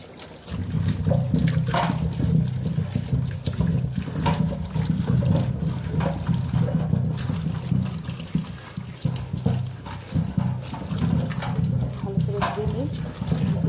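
Potatoes and other vegetables are washed by hand in a basin of water, with continuous close splashing and sloshing under someone talking intermittently.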